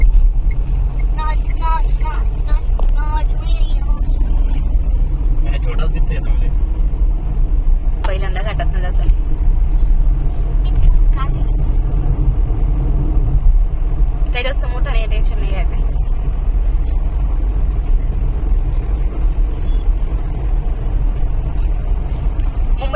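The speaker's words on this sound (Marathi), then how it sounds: "हे देऊ रोडची ट्रॅफिक आहे आणि इथे नेहमी खूप ट्रॅफिक लागते" Heavy road traffic on Dehu Road near a ghat, a constant loud engine rumble with passing vehicles and occasional hissing air brakes, under intermittent voices talking.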